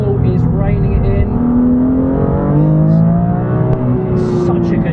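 2018 BMW M3 CS accelerating on a wet track, a loud in-car engine drone with pitch climbing through the revs and dipping at shifts, someone talking over it.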